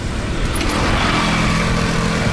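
A motorbike engine on the road in Hoi An, Vietnam, shifting down a couple of gears, heard as a steady, close engine drone with rushing road and wind noise throughout.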